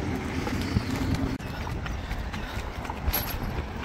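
A horse running alone along a service road, its hoofbeats a steady clip-clop heard at moderate distance under continuous road and wind noise, with no talking.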